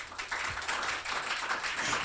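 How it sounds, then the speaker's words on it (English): An audience at a live kids' reality TV show applauding a contestant, a dense continuous patter of many hands clapping at moderate distance, fairly soft and steady for the whole short stretch. "Start clapping for her."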